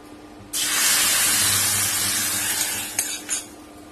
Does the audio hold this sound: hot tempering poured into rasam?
yes